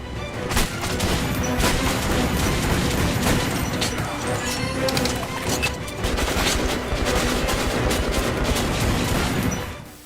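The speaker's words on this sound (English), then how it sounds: "4 barrels going off at once is serious business" A four-barrel shotgun in the Metro video game fires in a dense, loud barrage of blasts with crashing impacts that carry on almost without pause.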